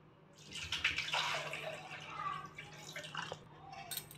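Coconut water poured into a blender jar with tender coconut flesh for a coconut lassi, a close, splashy trickle with small drips and spatters that rises and falls for a few seconds before tapering off.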